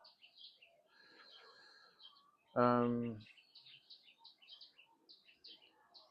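A sunbird in Thailand calls with high, thin chirps and twittering that repeat throughout, with a brief loud harmonic honk-like tone interrupting in the middle.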